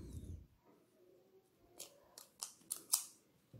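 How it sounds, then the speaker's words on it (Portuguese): Scissors snipping crochet yarn at close range, several quick crisp cuts in a row after a soft rustle, quiet with no talking. "Faço uma correntinha e vou cortar o meu fio."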